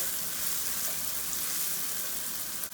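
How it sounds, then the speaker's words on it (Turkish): Onions and peppers fry and caramelize together in a pan, giving a steady, close, dense sizzle that stays even throughout and cuts off abruptly at the very end. "Soğanla biberler e, beraber karamelize olacak."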